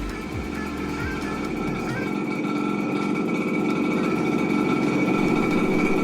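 A Suzuki A100 motorcycle engine runs close and loud as a steady, continuous drone with a slight rise early on and no voices over it.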